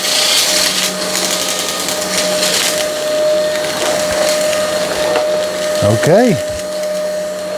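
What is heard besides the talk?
Tikom V500 cordless vacuum cleaner vacuuming up beads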